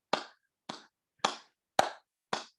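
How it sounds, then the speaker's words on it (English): Five crisp, close hand claps in an even, slow rhythm during a quiet qigong exercise, each clap sharp and isolated with silence between. "We're going to clap our hands to activate that heart energy"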